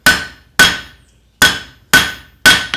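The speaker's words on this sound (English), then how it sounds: "my hammer blow is going to fall like this" A blacksmith's hammer striking a hot metal bar on an anvil while forging a tent stake: five loud, ringing blows at a steady, slightly uneven pace, each decaying with a metallic ring, close up with no talking.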